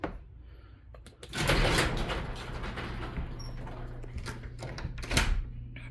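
Sliding door in a house being pulled shut, a long rumbling roll lasting several seconds with rattles along the way, ending in a sharp clack as it closes nearby.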